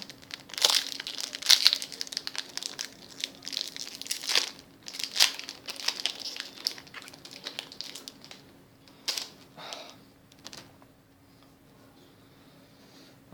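Trading card booster packs torn open and handled, with sharp crinkling foil, tearing and crunching bursts that come close and loud at first, then thin out into sparse rustles and quiet pauses toward the end.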